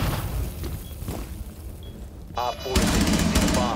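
Gunfire in Rainbow Six Siege on Xbox Series X: sharp bursts of shots crackle near the end, loud and dense over a busy game mix, with voices talking beneath.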